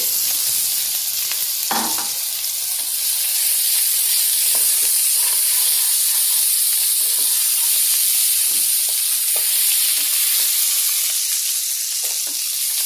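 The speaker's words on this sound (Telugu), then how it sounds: "ఇప్పుడు ఈ పచ్చిరొయ్యలన్నీ నేను ఇందులో వేసేసుకుంటున్నానండి" Raw prawns hit a hot pan for a prawn curry, setting off a loud, steady sizzle with hissing steam and occasional spatula scrapes and stirring clicks throughout.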